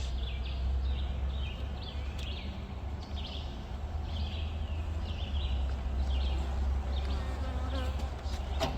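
Honey bees buzzing around an open hive during an inspection, a dense continuous hum close by with individual bees zipping past, over a low steady background rumble.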